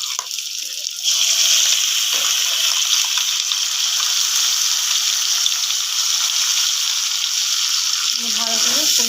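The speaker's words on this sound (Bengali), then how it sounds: "আলু আর টমেটো ভাজা গেছে, এর মধ্যে আমি যে আদা রসুন আর পেঁয়াজের পেস্টটা করেছিলাম এটা আমি দিয়ে দেবো।" Ginger, garlic and onion paste sizzles loudly in hot oil with frying potatoes and tomatoes, a dense, continuous crackle that rises after the first second and holds steady, with faint utensil sounds near the end.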